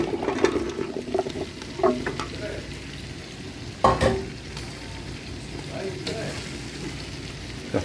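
Mixed vegetables for chicken sambar are stirred in a hot pan, the spoon scraping and clacking in a few bursts over a soft steady sizzle, close by with a voice speaking.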